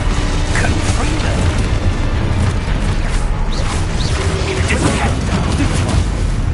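A Confringo spell blast in Hogwarts Legacy erupts in heavy, rumbling booms layered with bursts and crashes of game combat, loud and continuous, with spell shouts and other voices over the top.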